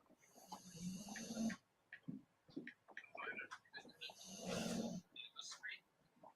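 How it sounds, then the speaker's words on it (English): A bulldog snores loudly in long rasping breaths with quieter snorts between, close by, while people talk softly near a fishing gathering. "I hear your bulldog snoring, Daryl."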